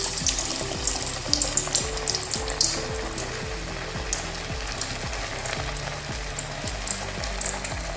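Potato smiley snacks deep-frying in hot oil give a dense, steady sizzle with crackling bursts and bubbling, close and constant with no voices.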